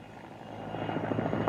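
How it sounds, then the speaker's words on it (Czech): A helicopter flying overhead, heard as a steady engine drone with a rhythmic rotor chop that grows louder as it approaches. "No, to je ta helikoptéra."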